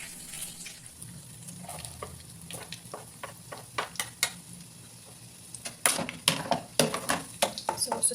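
Garlic sautéing in a pan for a diabetic-friendly meal: a low continuous sizzle under sharp scraping and clinking of a utensil stirring against the pan, with the stirring strikes growing louder and quicker toward the end.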